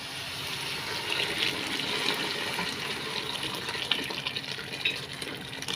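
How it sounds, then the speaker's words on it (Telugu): Hot water pours steadily into a pot of rice, a continuous gushing splash with faint clinks, moderately quiet. "ఇలా వేడి వాటర్ అయితే వేసేసుకుందాము"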